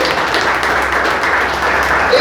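A church congregation claps in a loud, dense burst of applause that stays even for a couple of seconds, with some voices in the crowd.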